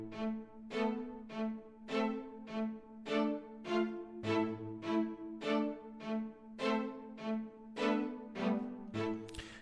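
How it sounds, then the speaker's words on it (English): Raw, unprocessed string section playing a series of short, punchy stabs in a steady rhythm, each chord sharply attacked and quickly fading, with no other sounds. "just the raw strings sound like this."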